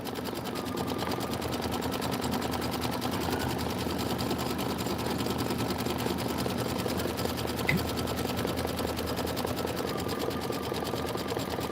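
An embroidery machine stitches out letters for an autumn banner, a steady, fast, even mechanical chatter running continuously at close range with no pauses.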